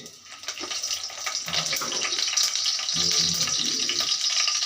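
Mustard seeds and curry leaves sputter in hot oil, a close, bright crackling sizzle that swells and stays busy, with stirring clatter underneath.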